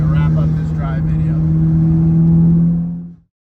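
A 2013 Mitsubishi Lancer Evolution X engine holds a steady, loud, close droning hum for about three seconds, then cuts abruptly to near silence.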